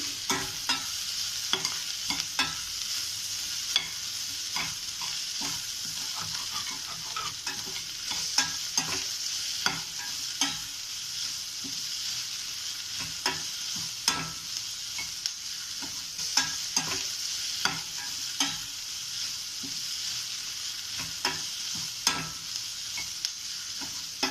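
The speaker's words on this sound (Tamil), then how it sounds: "இதை நல்லா கிண்டிடுவோம் உப்பு போட்ட பிறகு" Potato masala sizzles steadily in a pan after salt goes in, while a spoon scrapes and stirs with frequent close clicks and knocks against the metal over the constant frying hiss.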